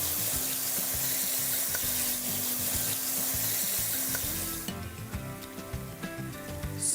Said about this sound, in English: it's time to let our onion friends join our chili friends in the wok